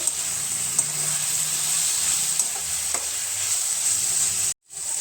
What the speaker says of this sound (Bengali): এবার সব কিছু একসাথে ভালো করে মিশিয়ে নেব